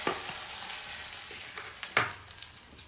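Onions sizzle softly in a pan for a northern-style fish curry, a quiet steady frying hiss broken by a few small pops and stirring clicks.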